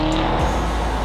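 A 2015 Chevrolet Corvette Z06 pulls hard away from traffic lights, a loud close engine roar with a brief tire chirp near the start, filling the whole moment with no talking.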